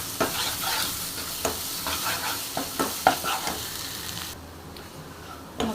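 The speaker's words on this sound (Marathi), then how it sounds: "मसाला छान परतून झाला" Konkani masala with turmeric is sautéed in a pan for prawn curry, producing a close, steady sizzle broken by repeated scraping and stirring strokes of a spatula. The stirring eases off toward the end.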